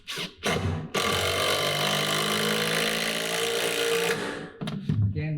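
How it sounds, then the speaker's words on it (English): A power driver sinks a 3-inch screw into a 2x4 for a stage platform leg. It gives a short burst, then one sustained close whirring run of about three seconds, and ends with a few brief blips. "if you are used to screwing in 3-inch screws"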